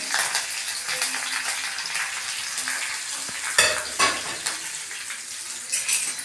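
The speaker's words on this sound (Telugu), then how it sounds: "ఇప్పుడు కొంచెం కరివేపాకు కొంచెం కరివేపాకు వేస్తున్నాను పచ్చిమిరపకాయలు సన్నగా తరిగిన పచ్చిమిరపకాయలు" Curry leaves and finely chopped green chillies crackle and sizzle in hot tempering oil for a bottle gourd yogurt chutney, a close, steady frying hiss with brief stirring scrapes and clinks of a spoon against the pan.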